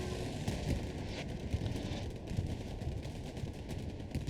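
Stuka dive-bomber strike in Hell Let Loose heard as rolling distant blasts and crackling gunfire, a continuous muffled rumble with scattered sharp impacts at moderate volume.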